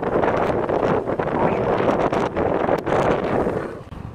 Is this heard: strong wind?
yes